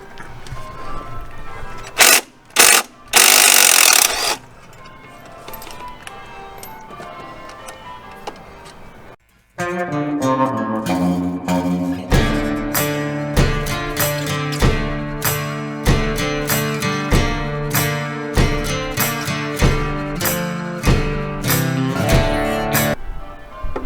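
A ratchet fitted with a Torx bit works on the crank pulley bolts of an Alfa 159, giving fast, loud, rhythmic clicking after a few sharp knocks at the start.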